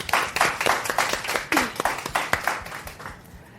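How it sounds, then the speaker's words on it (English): An audience claps for the speakers at a talk on challenger brands, rebels and misfits, a loose scatter of individual claps close to the mic, uneven and fading toward the end. "So give everyone a round of applause."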